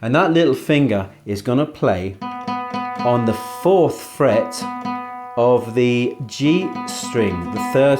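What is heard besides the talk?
No everyday noise stands out behind the speech.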